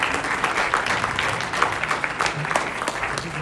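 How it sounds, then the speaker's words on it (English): Audience applause after a classical dance performance, with uneven individual claps standing out over a moderate crowd wash, fairly close. "Let's give her one more big round of applause"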